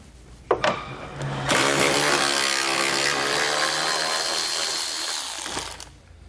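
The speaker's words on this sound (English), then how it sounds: "We're going to use a 10mm socket to remove those." A power tool with a 10mm socket spins out bolts across the top of a 2019 Ford Explorer's front fascia, starting with a couple of short clicks, then a steady loud whirring run of several seconds that stops abruptly.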